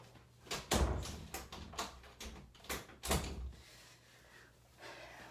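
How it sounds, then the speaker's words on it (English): A door is pushed shut indoors at home, with a series of knocks and thuds, two sharper impacts standing out, close and fairly loud before quiet settles. "Shut the door."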